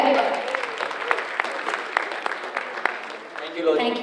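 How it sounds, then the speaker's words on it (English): Applause at a conference committee kickoff, with a crowd clapping steadily at moderate distance while a voice speaks over it for much of the time. "I would say big round of applause to Lohit."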